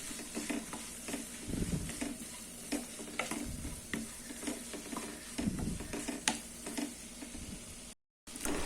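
Chutney ingredients, including coriander leaves and tamarind, are stirred as they fry in a pan, giving a steady sizzle broken by irregular scraping and clinking strokes, with a brief dropout near the end.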